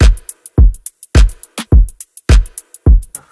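A drum beat from a breakdown with an off-tempo snare groove: booming kicks about every half second with crisp snare and hi-hat hits scattered between them, a loud, steady, punchy pattern with no voices.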